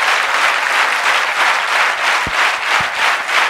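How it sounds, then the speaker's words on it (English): Enthusiastic audience applause after a panel discussion, a dense, steady wash of clapping that stays loud throughout, with a couple of brief thumps. "I think Chandan deserves much better applaud."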